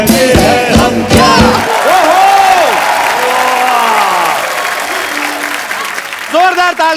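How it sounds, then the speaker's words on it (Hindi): A studio audience at a Hindi comedy talk show breaks into loud, sustained clapping and cheering right after a song ends, the applause close and dense, with a host's voice rising over it. "जोरदार तालियां यामी"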